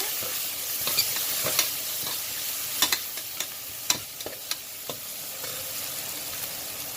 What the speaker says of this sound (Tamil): சேர்த்துட்டு ஒரு வாட்டி நல்லா கலந்துக்கோங்க.